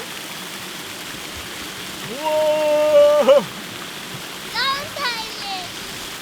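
Water rushes and splashes at a Tomorrowland park ride in Belgium, a constant stream-like wash under children's excited voices and a drawn-out shout.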